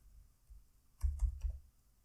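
Computer keyboard typing: a quick cluster of four or five soft, close key clicks in a quiet room.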